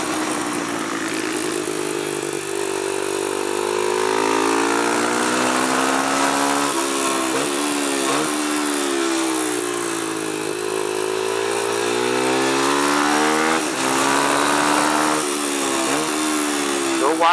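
A Kawasaki KLX170 supermoto motorcycle engine revving and shifting during raceday practice, its rising and falling tone sweeping through gears continuously and loud up close, with speech nearby.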